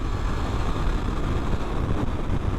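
Suzuki GSX-8R motorcycle ridden hard on the road, a loud, steady engine drone mixed with heavy rushing wind noise throughout.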